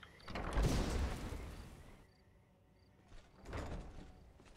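A door in Skyrim slides open with a heavy rumbling scrape, a quieter pause, then a second loud grinding rush as it moves again.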